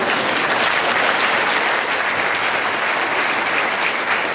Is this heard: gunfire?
no